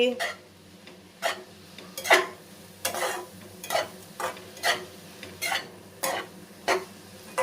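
Chopped cabbage is stirred in a frying pan, with about a dozen regular scraping strokes against the pan over a soft background sizzle, close and fairly quiet.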